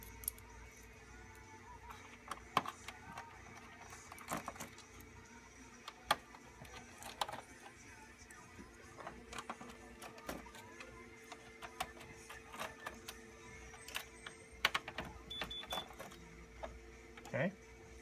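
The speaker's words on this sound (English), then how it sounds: "we're going to take our T9, and we're going to take out all the screws around the perimeter" Small clicks and scrapes of a T9 Torx driver taking out the perimeter screws of a PS4 during a disc drive rebuild, scattered faint ticks under a steady low mechanical hum, with speech at times.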